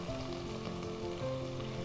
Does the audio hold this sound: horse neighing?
no